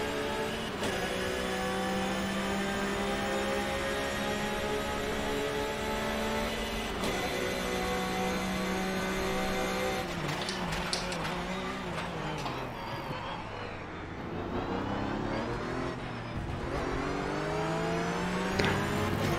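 A Porsche Carrera Cup race car at the Salzburgring in rFactor 2, its engine revving loudly with rising and falling harmonic sweeps through gear changes, close and continuous.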